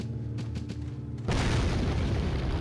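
A grenade blast in Resident Evil 4 bursts in loud and close after a low hum, a broad roaring explosion that rumbles on to the end.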